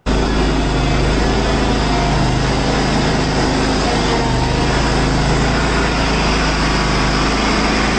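Lawn mower engine running steadily and loud at close range, a constant droning hum without pause throughout, no voices over it.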